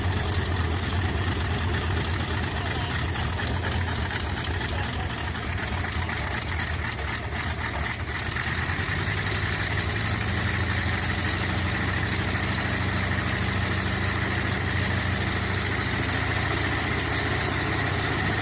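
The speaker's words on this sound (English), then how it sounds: "The engine's 14 cylinders fired rhythmically, producing an unmistakable pulsating growl that echoed across the cross grounds." A WWII 14-cylinder radial aircraft engine runs steadily on a ground stand, a dense, even pulsing drone that is loud and continuous throughout, with a slight shift in tone partway through and no voices.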